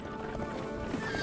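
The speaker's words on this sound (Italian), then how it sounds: "Il fantasma di Ponty Pandy Pete ha spaventato un cavallo e ora sta trasportando un carro a tutta velocità" A cartoon horse, spooked in a Fireman Sam animation, clip-clops at full speed while pulling a cart and whinnies, with steady rapid hoofbeats under faint background music.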